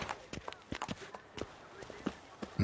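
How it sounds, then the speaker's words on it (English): Horse hooves in a video game clop along in an uneven walking rhythm, faint and soft, with a few sharper knocks and a brief louder thump at the end. "Whoa there, Roach."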